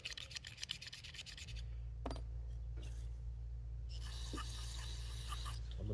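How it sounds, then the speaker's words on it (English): A razor blade scrapes old gasket material off a 1976 3hp Briggs & Stratton carburetor, giving a quick run of close, gritty scratches over a steady low hum, followed by a few lighter scrapes. "then we'll take our razor blade and scrape all this gasket material off"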